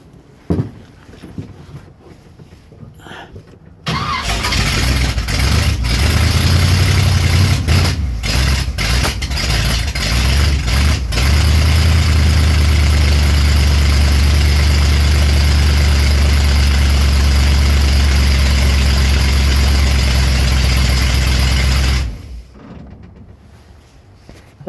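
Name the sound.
1967 Corvette engine starting and running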